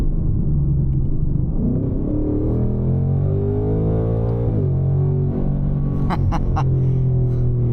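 2024 Ford Mustang GT engine pulling hard while driving, a deep rumbling tone climbing in pitch through acceleration, easing briefly, then rising again, with a few sharp clicks near the end.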